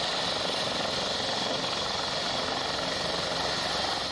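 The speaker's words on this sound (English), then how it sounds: "As we board the helicopter" A helicopter used in a training exercise to simulate rescuing stranded sailors, heard from close by as a loud, steady rotor and engine roar that fills the whole stretch without letting up.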